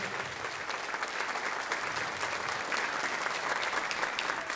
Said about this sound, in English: let's give another round of applause to Chancellor King and the folks from the district office